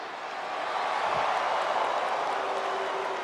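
Arena crowd noise from WWE 2K26 MyRise, a broad steady roar that swells in the first half-second and then holds loud and continuous with no distinct claps or voices standing out.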